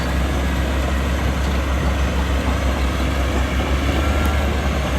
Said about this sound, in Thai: ดังค่อนข้างแรงเลยทีเดียวนะ เสียงเครื่องยนต์แน่นๆเลย